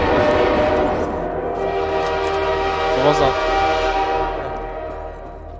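A loud, sustained train horn blares in Garry's Mod, its layered harmonic tones holding steady for several seconds under game ambience, with a voice briefly speaking over it.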